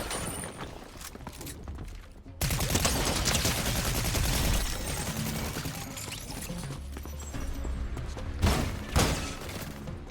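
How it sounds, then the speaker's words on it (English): Gunfire in Fortnite, dense bursts of rapid shots running for several seconds after a quieter stretch, with a couple of louder blasts near the end. "Who's shooting at me?"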